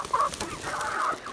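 Native criollo hens cluck close by in short, nasal bursts, a few overlapping calls with brief pauses between them.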